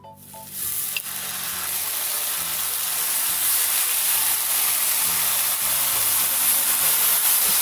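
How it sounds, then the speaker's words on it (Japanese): Steady, loud sizzling of pork frying in a pan for ginger pork, a continuous crackling hiss that runs throughout with no talking. "そして肉を焼いていきます。"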